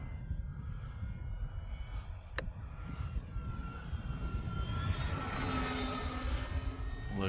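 E-flite Focke-Wulf Fw 190A radio-controlled model warplane flying past at an airfield, its electric motor whine rising and shifting in pitch as it passes, steady and moderately loud over outdoor wind noise.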